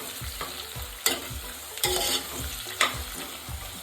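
Onions fry in a pan for chitranna rice, a continuous close sizzle punctuated by a few sharp scraping stirs and knocks of the spatula against the pan, no talking.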